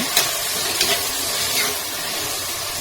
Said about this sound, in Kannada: ಎಣ್ಣೆಯಲ್ಲಿ ಸ್ವಲ್ಪ ಫ್ರೈ ಮಾಡೋಣ